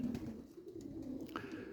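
Young pigeons coo softly inside a loft, a low steady murmur of several birds close by, with a brief higher rising call near the end.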